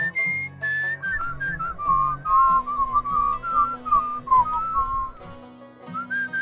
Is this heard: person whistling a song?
yes